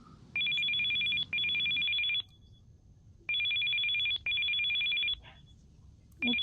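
A telephone rings inside the Still Life 2 video game: four long electronic ring bursts in two pairs with a pause between them, loud and close, and a fifth burst starts at the end.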